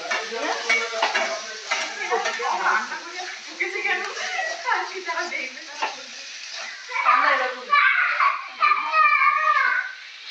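Potato pieces, a fish head and carrot stir-frying with turmeric in a pan, a low sizzle with spoon scrapes and clinks of stirring, heard close beneath nearly continuous talking.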